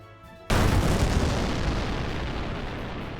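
A cannon fires during a boss fight in a video game, one sudden loud boom followed by a dense, roaring rumble that fades only slightly over the next few seconds, with no voices.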